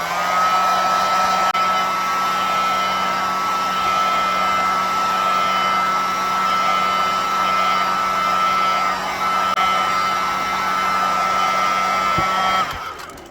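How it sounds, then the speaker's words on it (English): A heat gun blows steadily and loudly, a constant airy roar with a whining tone that holds for about twelve seconds before cutting off abruptly at the end, with no talking. "So turn off the heat gun"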